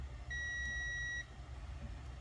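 A single steady electronic beep of about one second from a multimeter's continuity buzzer, sounding as a faulty diode from a TCL TV is tested, over a low background hum.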